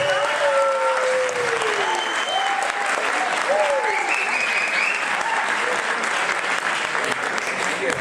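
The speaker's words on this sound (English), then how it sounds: "please start the round of applause" A comedy club audience in Delft bursts into sustained applause, a dense, loud, even wash of clapping throughout, with a voice calling out over it.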